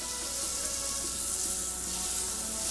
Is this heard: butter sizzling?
yes